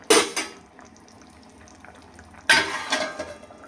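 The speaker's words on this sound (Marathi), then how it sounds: "एकदा छान मिक्स करून घेते आणि ह्याला 2-3 मिनटं झाकण घालून ठेवते" Bitter gourd curry stirred in a pot, then a lid put on: two sharp metallic clatters of spoon and lid against the pot, separated by a quiet simmering pause.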